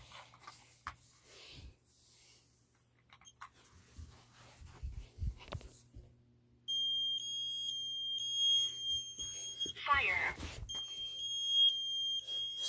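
A carbon monoxide alarm sounds in a repeating pattern of shrill electronic beeps, starting after several seconds of quiet handling and clicking noises and continuing loudly to the end.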